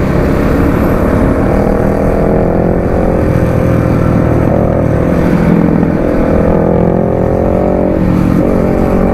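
A Bajaj Dominar 400 motorcycle engine runs loud and steady, its revving drone rising and falling while another rider is chased at speed on the road, with no voices over it.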